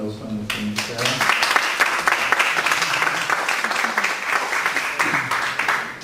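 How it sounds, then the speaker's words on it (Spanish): Audience applause fills a forum hall on social housing policy in Veracruz, loud and steady for about six seconds, with a brief voice heard near the start. "Por favor, un aplauso a nuestra invitada."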